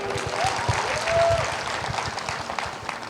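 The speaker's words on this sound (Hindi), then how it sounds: "मैं चाहूँगा एक बार आर्मी के लिए ज़रूर ताली हो जाए।" An audience claps in tribute to the army during a motivational talk. The clapping is moderately loud and steady, with a faint tonal whistle-like sound over it.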